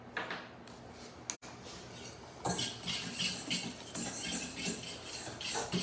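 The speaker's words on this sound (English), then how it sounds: "We'll just whisk that up." Salt and pepper whisked in a bowl, a brief clatter, then rapid steady scraping strokes of the whisk against the bowl, close and moderately quiet.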